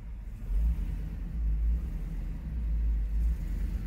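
LQ4 V8-swapped car engine idling low at around 600 rpm, a deep uneven rumble with slight surges in loudness, close and steady with no talking.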